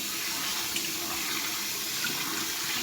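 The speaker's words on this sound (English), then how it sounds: "Rinsing out my Lady C Creations bug real quick" Steady, full rush of running water rinsing a Lady C Creations shaving bowl during a wet shave, continuous and close with no pauses.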